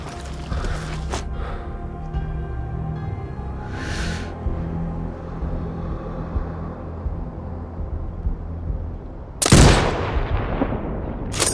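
Sniper rifle shots ring out in Sniper Ghost Warrior Contracts 2, with a sharp crack early on, a fainter report a few seconds later and a loud, booming shot near the end, all over low ambient game noise.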